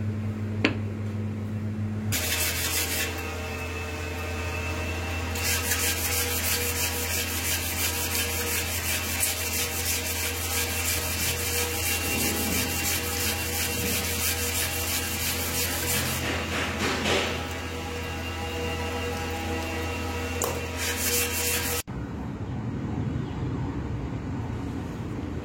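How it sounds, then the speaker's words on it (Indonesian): Steady abrasive rubbing of sandpaper on a solid surface coaster, continuous and close, with a motor hum underneath that stops abruptly near the end. "Jadi kita proses amplas dulu."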